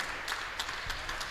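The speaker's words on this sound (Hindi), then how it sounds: "एक जोरदार ताली हो जाए" Brief, light audience clapping at a poetry and ghazal gathering, a few scattered claps in quick succession, faint and short.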